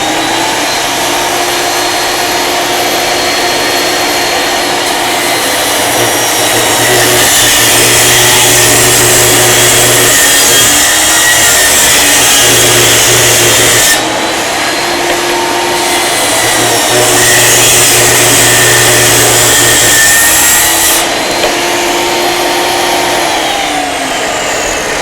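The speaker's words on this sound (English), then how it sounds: "so I'm going to go ahead and cut this 1/8 inch thick" A table saw runs loud and close throughout, its steady whine deepening in two long stretches as the blade cuts an eighth-inch-thick strip.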